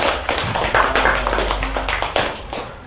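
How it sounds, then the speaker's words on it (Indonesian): A small classroom group claps for about three seconds, a brisk, uneven patter of many hands close by that fades out at the end. "Tepuk tangannya mana?"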